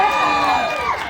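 A crowd at a rockabilly best dressed competition cheers and shouts in a brief loud burst that sustains evenly without pause.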